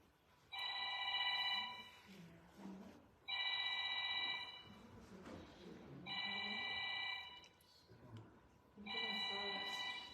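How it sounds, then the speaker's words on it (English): A mobile phone rings in a room, four evenly spaced bursts of an electronic ringtone, each about two seconds long, with faint murmuring voices in the gaps between rings. "So you want it on airplane mode, not because it just rang."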